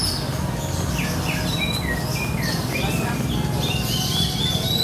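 Small caged birds at the Wedi bird market in Klaten, Indonesia, give out a busy mix of high chirps and tweets over a constant broadband hum of the market.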